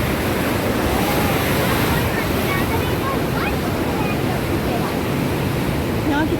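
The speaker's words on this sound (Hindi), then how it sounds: "यहाँ कितना तेज है पानी का बहाव।" Steady, loud rush of fast-flowing river water at Rishikesh fills the whole stretch, a continuous broadband roar with no pauses.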